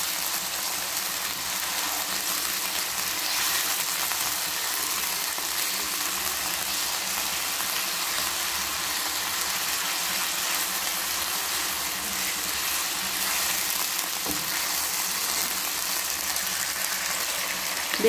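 Chicken pieces fry in a pan for a village-style chicken and chips dish, giving a steady, even sizzle and crackle of hot oil that runs unbroken throughout, fairly close and with no voices.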